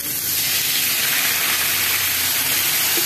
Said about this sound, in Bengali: এবার এখানে সামান্য জল দিচ্ছি